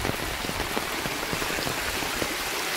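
Steady rain pours down beside a farmhouse at the edge of a village, a dense, even hiss of drops pattering on surfaces close by, uninterrupted and without any talking.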